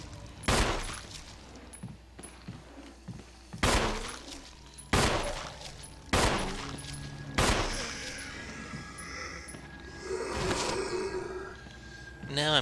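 Gunfire from a firearm blasting a zombie in Resident Evil HD: about five loud, sharp reports spaced a second or two apart, with a sustained ringing tone and a crashing, shattering burst near the end.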